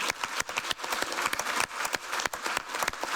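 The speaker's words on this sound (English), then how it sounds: "I appreciate the applause, but it's not necessary." Keynote audience at a MEHA event in the EU Parliament, Brussels, breaking into applause, a crowd of clapping hands with distinct individual claps, fairly close and sustained, rising and dipping slightly.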